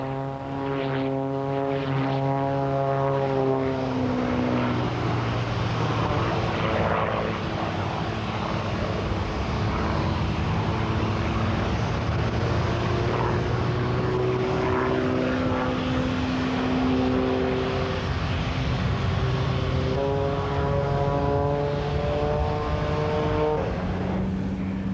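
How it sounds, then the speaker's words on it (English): Aerobatic propeller aircraft performing high-rate rolls and pulls at the 1993 Biggin Hill air show, its engine droning loud and steady throughout with rising and falling pitch sweeps as it maneuvers. "Very, very high roll rate on this particular aircraft."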